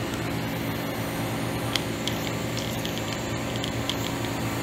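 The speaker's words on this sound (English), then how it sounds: "Well, blow the refrigerant out that way." Refrigerant blows out of a walk-in freezer's valve core as a steady, close, hissing spray that holds even throughout, with a few faint clicks on top.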